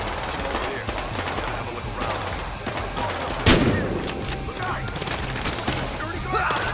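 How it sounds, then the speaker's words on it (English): Gunfire in the shooter video game Battlefield Hardline, dense continuous bursts of automatic fire with one sharp louder shot midway, close and loud throughout. "tell that to the asshole shooting up the place"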